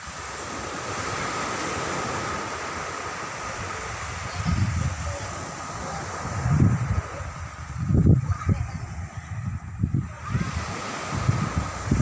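Surf rolls in at Lanco Beach in North Aceh, Indonesia, with steady wind buffeting the microphone. Several low wave surges swell and recede at irregular intervals, close by.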